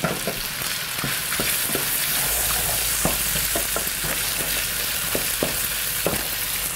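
Beef for chili browns in a pot with a steady, loud hiss and sizzle, broken by scattered spatters and a few stirring scrapes, with no talk over it.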